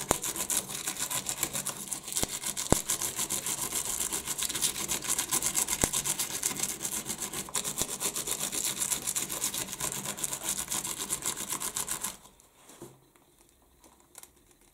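A brush scrubbed back and forth over die-cut paper on a small mat, a continuous close scratchy rubbing with faint crinkles that stops abruptly near the end, leaving quiet.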